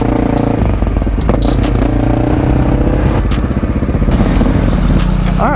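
Triumph street motorcycle being ridden, its engine droning loudly and steadily with rumble and wind throughout, some clattery ticks on top, no talking.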